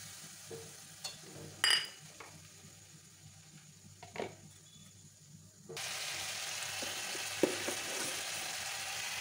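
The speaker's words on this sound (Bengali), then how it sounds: "ভালো করে ভেজে নেবো" Upma with Maggi masala fries in a pan, with scattered spoon scrapes and clinks at first, then a steady, dense sizzle that rises suddenly and holds, close by.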